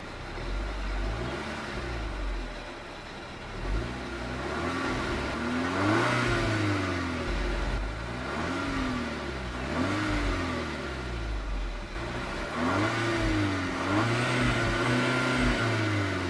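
A 2013 Volkswagen Golf R with a six-speed engine revved repeatedly from idle, each blip rising in pitch and falling back, several rhythmic revs heard close and fairly loud with no talking.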